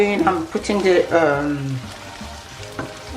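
Gari Fortor frying in a pan with puree and shallot, a continuous sizzle running under a speaking voice that drops out partway through.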